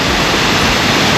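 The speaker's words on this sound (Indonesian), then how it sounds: "Itu airnya jatuh, air terjun." A loud, steady rush of a waterfall at Riam Macan cave roars continuously, close and dense with no other sounds.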